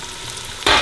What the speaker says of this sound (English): Now you keep frying this till the onions get nice and brown.